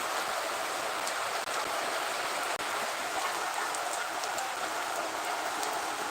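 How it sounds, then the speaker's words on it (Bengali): Heavy rain pours down steadily over farm fields, a dense, even hiss of drops on surfaces with a few faint knocks, close and unbroken throughout. "বৃষ্টি হচ্ছে আবার একটি নিয়ামত"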